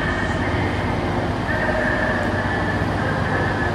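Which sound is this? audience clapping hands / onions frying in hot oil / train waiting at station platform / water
train waiting at station platform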